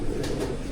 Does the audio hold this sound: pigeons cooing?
yes